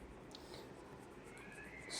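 An eraser rubbing across a board, a soft continuous scrubbing with a few stroke accents, close and fairly quiet, no talking.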